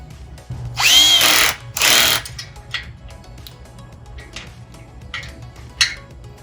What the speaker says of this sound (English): now what I'm going to do is tighten the axle bolts down so that they're almost snug